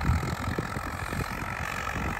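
An Agriking 2055 4WD tractor with a 3-cylinder 3120 cc diesel engine and Bosch inline pump idles nearby, a steady low rumbling chug that continues without pause.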